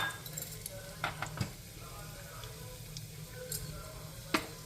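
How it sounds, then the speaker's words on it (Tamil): Raisins and cashews frying in ghee, a quiet sizzle broken by scattered sharp pops and light clicks of a utensil against the pan. "திராட்சை நல்லா பொரிஞ்சு வந்துடுது. முந்திரியும் சிவக்க ஆரம்பிச்சிடுது."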